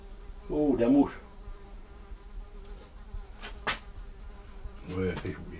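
A fly buzzing near the microphone in a rustic Cévennes setting, in short intermittent bursts with gaps between them, while a person speaks briefly.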